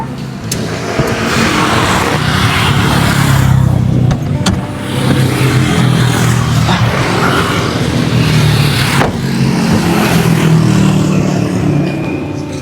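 A car engine runs steadily while the vehicle is maneuvered into a parking spot, a loud continuous motor drone with slight rises in revs and a few faint clicks, no voices over it.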